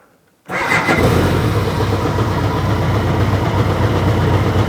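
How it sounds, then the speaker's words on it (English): A car engine cranks and catches after a brief near-silence, then settles into a loud, steady idle close by, with no voices. "Start the engine."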